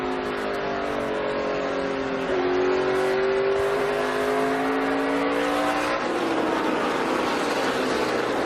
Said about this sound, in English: You can hear how smooth he gets out of the throttle, get down into 1